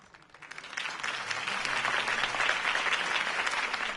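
Crowd applause in the Batman Telltale video game, clapping from many hands that builds quickly from a few claps into a broad, sustained ovation heard alone.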